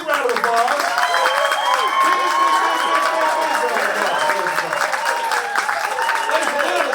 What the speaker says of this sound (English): give them a huge round of applause. Big round of applause